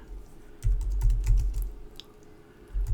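Fingers type in quick bursts on a computer keyboard, close and clear, with two dense runs of keystrokes separated by a short pause and another burst at the end.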